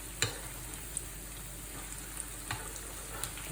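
An Alsatian potato galette, the Grumbeerekiechle, sizzles steadily in a pan after being flipped, a soft even frying hiss with a few faint clicks and pops, and no talk.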